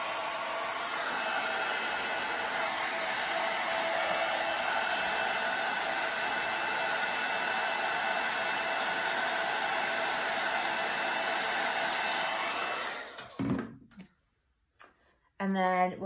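A heat tool blows steadily over a handmade Christmas card with an ice skate design, a loud, even whooshing hum running for about thirteen seconds before it cuts off, followed by brief rustling.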